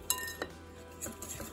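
Persian rice cookie dough mixed by hand in a bowl, heard as a few quiet clinks and soft scrapes of a utensil against the bowl in a short, faint burst.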